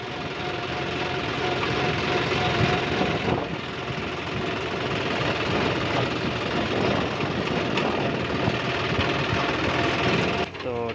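A tractor engine idles steadily at a farmers' market with a constant, close mechanical rumble, while people talk in the background.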